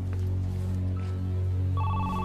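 A telephone rings in a TV drama scene, repeated electronic ringing tones running steadily throughout over a low background hum, with a brighter tone entering near the end; no one speaks.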